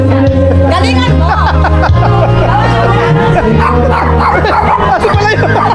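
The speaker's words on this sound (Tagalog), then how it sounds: "Aso pala yun?" A dog barks and yips amid a lively hubbub of overlapping voices at a birthday party, all close and loud.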